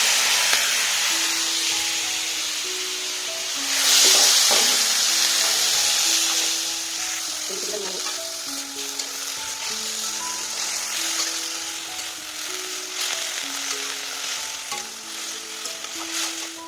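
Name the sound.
vegetables frying in oil in a wok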